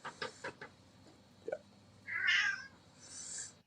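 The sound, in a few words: cat meowing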